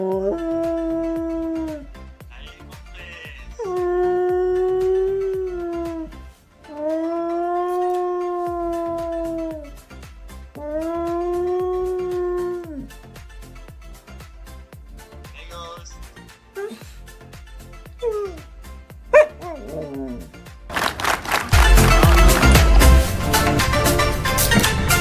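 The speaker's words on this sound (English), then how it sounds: "This cute dog sings with his owner on FaceTime." A dog howls in long, drawn-out wavering notes along with its owner singing over a FaceTime call, several rising and falling howls in turn, ending in a sudden loud burst of noise.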